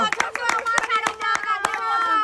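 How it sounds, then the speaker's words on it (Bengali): A small group clapping in uneven rhythm at an outdoor bottle-flip prize game, close and moderately loud, with people talking over the claps. "সবাই একটা জোরদার তালিয়া"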